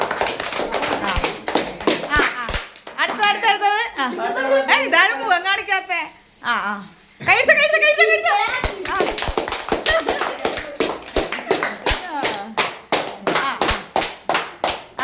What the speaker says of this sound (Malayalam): കൈയടി കൈയടി കൈയടി